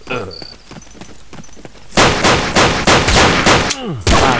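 Rapid pistol shots ring out in the Half-Life mod They Hunger, a quick string of loud, sharp cracks fired close together after a quieter opening moment.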